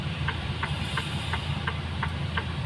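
A machine engine runs in a compressed air system, a steady low hum with a regular, faint ticking knock about three times per second and no talk.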